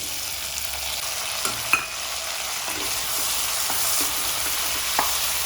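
Onions and tomato fry in oil in a pan for a bitter gourd gojju, a steady bright sizzle close by with occasional spoon taps and scrapes scattered through, and no one talking.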